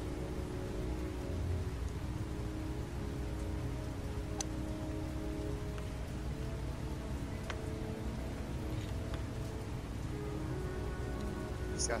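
Steady rain falling on a surface in a video game, a dense even patter throughout with a few faint clicks, no voices.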